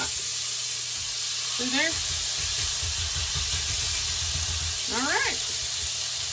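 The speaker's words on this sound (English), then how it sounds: "You hear that sizzle? That's how you know the skillet's good and hot." Hamburger steaks sizzle in a hot skillet with a steady, close frying hiss. A person speaks briefly over the continuous crackle.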